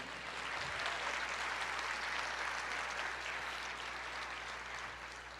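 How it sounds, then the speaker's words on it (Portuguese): Church congregation applauding during a sermon, a steady, dense wash of clapping that holds evenly for several seconds at moderate distance, with a low constant hum underneath. "aplauda ao Senhor"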